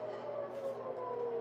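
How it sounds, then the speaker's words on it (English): A wailing air raid siren warning of an attack sounds steadily across Tel Aviv, its long tone slowly rising and falling, heard from a distance and filling the whole clip with no talk. "Sirens announcing attack went off. Here. You hear the sirens now"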